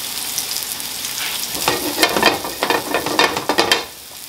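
Shiitake mushrooms and spinach sizzling in a hot pan, a steady bright crackle that swells louder with bursts of spattering in the middle before easing off at the end.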